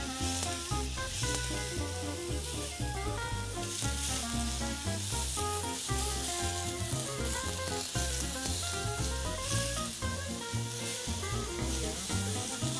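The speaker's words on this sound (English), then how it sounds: "Now that fennel is seared on either side." Fennel searing in a Staub square grill pan gives a steady, close sizzle and crackle that runs the whole time beneath background music.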